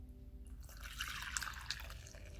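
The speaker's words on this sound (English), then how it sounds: "Now once that's done, I'm gonna just pour in my water." Water is poured into a well of flour for artisan bread dough. The liquid trickles and splashes softly and close by, with no one speaking.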